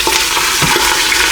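Lemon garlic marinated pork tenderloin sizzles steadily as it browns in an Instant Pot, a loud close continuous frying hiss with no talking.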